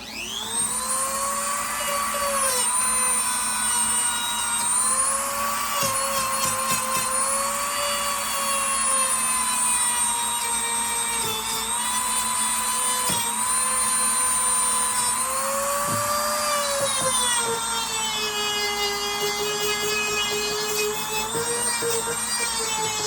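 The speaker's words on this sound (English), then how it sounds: "Just gonna Dremel this blade down." Dremel rotary tool grinding down the blade of a Colonial stockman pocket knife during a restoration, a steady high-pitched whine that shifts pitch as the load changes, loud and continuous throughout with no talk.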